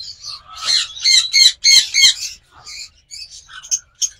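Pet lovebirds or cockatiels, a big-sized breeding pair, squawk and chirp in loud, sharp bursts close by, several harsh calls in quick succession followed by shorter scattered chirps.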